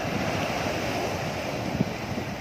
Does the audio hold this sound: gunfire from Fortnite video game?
no